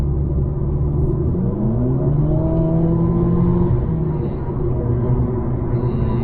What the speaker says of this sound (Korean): 방금 전에 제가 조금 빨리 달리려고 밟았는데 소리만 좀 요란하고